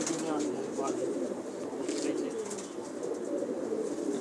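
Old pigeons kept by a breeder coo in soft repeated murmurs close by, with faint flutters and voices in the background.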